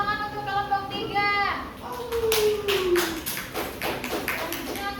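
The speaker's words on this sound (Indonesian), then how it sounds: "Tepuk tangan untuk kelompok 3." Applause from a university micro-teaching class for group 3: scattered clapping builds after a voice speaks, then continues in a loose patter of moderately close hand claps.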